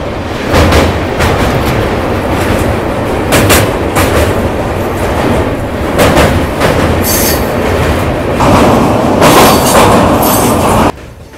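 A double-decker train crosses the bridge over the Narmada River near Bharuch with a loud, close, continuous rumble, rhythmic clickety-clack of wheels on rail joints, and bursts of metallic wheel squeal.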